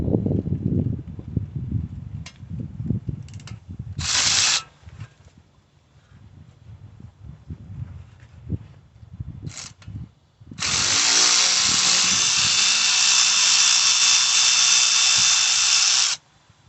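A powered ratchet with a 7 socket undoes brake caliper bolts during a brake pad and disc job on a car with an electric parking brake: a few short whirring bursts, then a long, steady, loud buzz of about six seconds.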